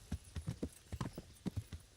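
Horse hooves clip-clop in a medieval Bohemia video game, a quiet, uneven run of hollow knocks at walking pace, close by and alone.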